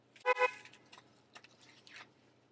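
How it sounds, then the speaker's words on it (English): A car horn gives two short, close honks, followed by faint scattered sounds in a quiet outdoor setting. "Gonna honk at him again."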